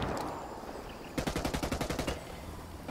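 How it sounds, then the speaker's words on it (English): A flashbang grenade goes off in Ghost Recon Wildlands, heard as a loud burst of about ten rapid, evenly spaced sharp cracks lasting roughly a second, with steady game ambience before and after. "Got him with the old flashbang."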